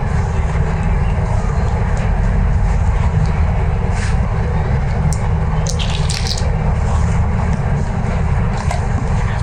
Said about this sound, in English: So this is warm water. I'll start adding bit by bit.